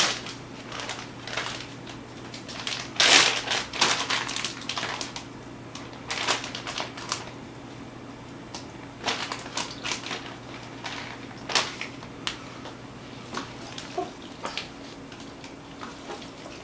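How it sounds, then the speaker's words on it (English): Shrimp and langostinos are gently folded into a creamy seafood mac and cheese. Soft, quiet squelches and spoon scrapes recur in irregular bursts over a faint steady hum, with a few sharper clicks against the bowl. "now I'm going to add my shrimp and my langostinos, and we're just going to fold it in."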